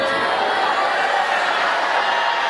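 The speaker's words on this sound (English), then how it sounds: "What a surprise to hear you lot booing." A live studio audience at a 2008 American Idol performance show boos a judge, a sustained broadband crowd roar that holds steady and loud throughout, with some voices mixed in.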